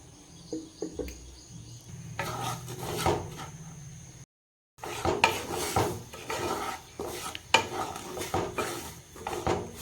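Semolina roasting in a pan for upma gives a steady, quiet scraping and rasping of a spoon stirring dry grains, close-up and continuous with a brief gap midway, no voices.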